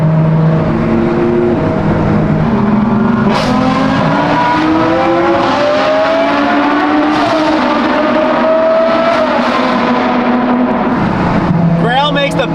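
A Ferrari V12 supercar revs and accelerates in a tunnel, its loud exhaust climbing and falling in pitch with echoing screams and a sharp burst near the end, heard up close and alone.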